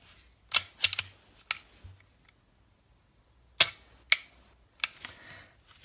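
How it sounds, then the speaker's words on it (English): Sharp mechanical clicks from a SIG P320 TAC Ops pistol trigger being pressed and reset, a quick cluster of three or four close clicks, a pause, then three more spaced clicks, near and crisp in a quiet room. "When you press the trigger back, you've got your initial click"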